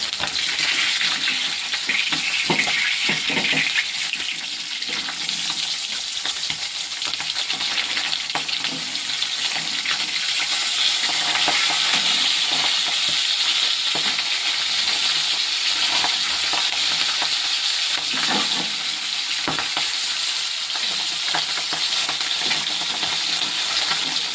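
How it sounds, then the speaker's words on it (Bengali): Pabda fish fries in a pan of hot oil, giving a loud, dense, continuous sizzle with faint crackles and occasional soft scrapes, close by, with no one speaking. "এই তো মাছ ভেজে নিচ্ছি, পাবদা মাছ।"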